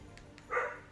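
Dogs barking in a corner of the house, a single short, muffled bark at moderate distance after a couple of faint ticks, with no talking.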